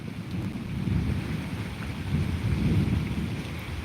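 Steady rain with rolling thunder during a thunderstorm, heard from inside a house: a dense, continuous low rumble under constant rain hiss, swelling twice, with no talking.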